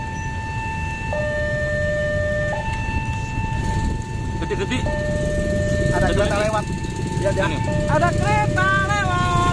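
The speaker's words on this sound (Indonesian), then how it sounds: "Terdengar alarm kalau ada kereta melewat." A railway crossing alarm in Bojonegoro, Indonesia, sounds as a train approaches, a steady stepping two-tone ringing over street noise. Voices chatter faintly toward the end.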